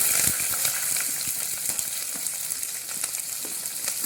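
Onions sizzle and crackle in a hot pan of oil while being cooked for an egg and drumstick tamarind curry, a steady bright frying hiss with small pops throughout and no speech.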